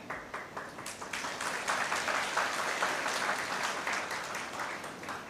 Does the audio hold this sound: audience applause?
yes